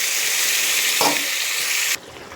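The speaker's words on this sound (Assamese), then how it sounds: "এইফালে মই অলপ পানী দি দিলোঁ" Water is poured into a pan of chicken frying in turmeric, the steady loud sizzle swelling with a burst partway through and then dropping sharply quieter, with no talking.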